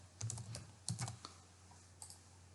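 Computer keyboard typing of code: a few short clusters of quick, close key clicks with brief pauses between them, over a low steady hum, with no talking.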